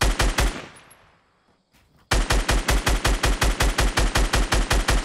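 Rapid automatic gunfire in a battle royale duo match opens the clip, fades into near silence, then resumes as a steady, evenly spaced stream of loud shots for the rest of the clip.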